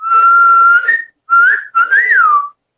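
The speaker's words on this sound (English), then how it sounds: "How do I whistle?" A sustained whistled tone followed by two shorter rising-and-falling whistled notes, loud and close with brief pauses between.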